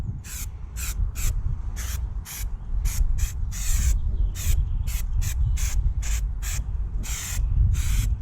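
Holt's brake cleaner hisses from an aerosol can onto a brake disc in repeated short bursts, about a dozen quick sprays with a few longer ones, close and fairly loud over a low background rumble.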